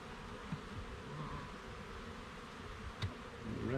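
Honey bees buzzing at an opened hive, a dense, steady close-up hum that fills the whole stretch, with a couple of soft knocks and no talking.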